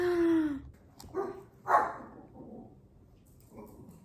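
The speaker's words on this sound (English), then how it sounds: "Dogs." Dogs bark indoors, a few short barks and a whine at moderate distance, with light household noise between them and no talking.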